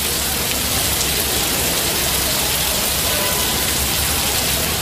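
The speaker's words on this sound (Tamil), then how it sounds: "கொடைக்கானல் மற்றும் சுற்றுவட்டாரங்களில் 1 மணி நேரம் மிதமான மழை பெய்தது." Moderate rain falls over the Kodaikanal hills, a steady, dense hiss of drops on surfaces, close and unbroken for the whole stretch, with no voices.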